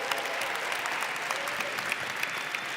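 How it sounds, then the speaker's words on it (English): An audience breaks into applause, dense clapping from a crowd that holds steady and fairly loud for a few seconds, with a faint cheer or voice mixed in. "Give her a round of applause."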